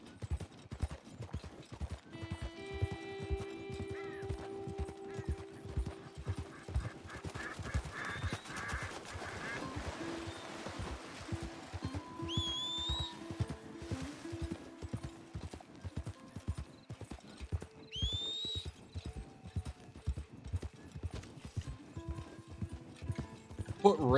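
A horse named Rachel trots through a ranch in Red Dead Redemption 2, its hooves clip-clopping in a steady, close rhythm on the ground, with occasional whinnies and ambient birds calling in the background.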